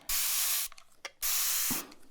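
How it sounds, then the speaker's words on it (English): A spray bottle releases a fine water mist in two long, close hissing bursts, with quiet rustling and a few soft taps between them, no talking. "You can only do spraying sounds so long"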